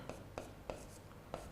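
Marker or chalk strokes on a board during a physics lecture, four short taps and scratches spaced unevenly across a quiet room, with faint speech from the teacher nearby.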